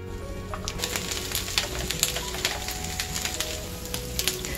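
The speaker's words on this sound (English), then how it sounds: "So right now I'm cooking up some Goetta, which I will be serving with the Yorkshire pudding." Goetta sizzles and crackles steadily in a hot pan with oil, a dense hiss broken by sharp, irregular pops close by.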